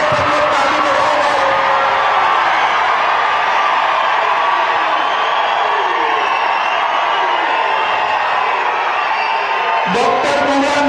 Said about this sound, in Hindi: माधवी के लिए सब लोग ताली बजाओ।